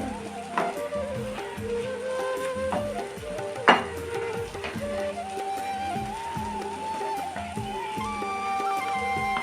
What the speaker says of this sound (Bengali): ভাজা বড়া ভাজা হয়ে গেছে তুলে নিয়েছি